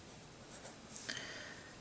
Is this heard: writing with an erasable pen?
yes